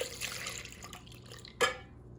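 Whole milk is poured into egg custard pie filling with sugar, vanilla and nutmeg, making a soft, close liquid trickle and splash that tapers off into quiet.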